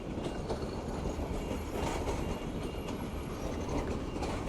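A Dhaka–Mohanganj train rolls up to a road crossing where people are still crossing, its loud rumble and rhythmic wheel clatter steady and close, with faint metallic squeals and no talk.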